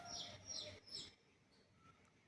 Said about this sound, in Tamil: பறவைகள் சத்தம் கேட்குது ஃப்ரெண்ட்ஸ்.